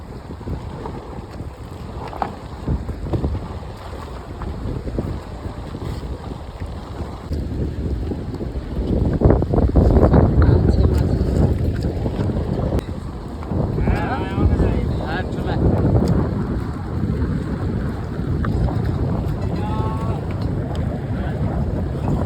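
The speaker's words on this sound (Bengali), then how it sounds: "তোমরা দেখো অন্ধকারের মধ্যে কিভাবে বোট আসছে আর বোট নামছে" A boat on a river at night, engine rumble swelling closer amid wind buffeting the microphone and water noise, with voices talking nearby over it.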